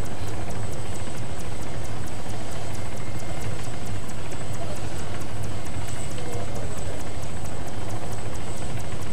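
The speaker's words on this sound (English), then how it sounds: "Tony, are you still in the helicopter?" Helicopter engine and rotor drone in a multiplayer video game, a steady dense hum running throughout with faint voice chat beneath.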